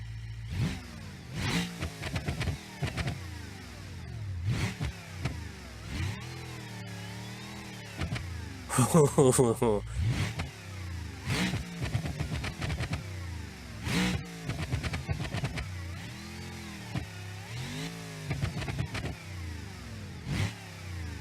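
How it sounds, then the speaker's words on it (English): A cop car in the BeamNG.drive video game, hood removed, revs hard toward 6,800 rpm. The engine rises and falls in repeated loud surges close up, with no talking. "let's see if the motor over revs"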